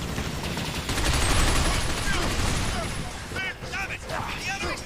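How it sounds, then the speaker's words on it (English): Gunfire in the third-person shooter Binary Domain, a sustained loud volley of rapid shots mixed with explosive crashes and chaotic battle noise, with voices heard toward the end. "Just gonna shoot the damn thing myself at this point."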